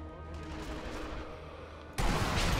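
Game gunfire in the Sniper Elite V2 co-op: a sustained rumbling layer of distant shots, then a sudden loud, broadband burst near the end that stays loud.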